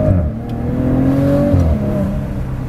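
2017 Maserati Ghibli accelerating hard through its ZF 8-speed gearbox, a loud close engine drone with pitch climbing then dropping at a quick gearshift around midway before rising again.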